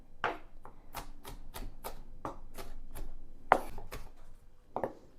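A knife chops green onion on a cutting board in a quick run of crisp, evenly spaced taps with a few louder knocks, close and clear with no talking.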